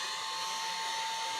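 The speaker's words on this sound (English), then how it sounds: "So I'll grab the old heat gun, a bit like a hairdryer." Steady, continuous rush of blown air with a constant whine, like a heat gun or hair dryer running on low, alone and unchanging throughout.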